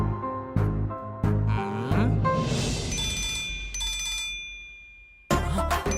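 A mobile phone ringtone sounds for an incoming call, a loud melodic electronic tune repeating in bursts close by, with a brief pause before it starts again.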